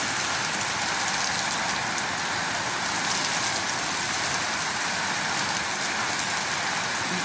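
Steady, dense rain falling on trees during a downpour in Canberra, Australia, a continuous close hiss with no talk.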